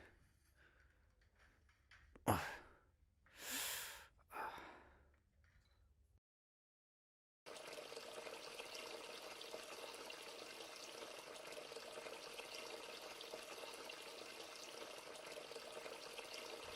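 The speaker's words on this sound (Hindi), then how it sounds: "मैंने ही सिंक का पानी खुला छोड़ा था ना?" A sink tap left running pours a steady, even stream of water for several seconds, preceded by a few scattered knocks and rustles and a short silence.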